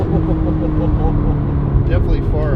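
A Ferrari 488 fitted with a Novitec exhaust drives off with a loud, close, low engine drone, and voices talk over it.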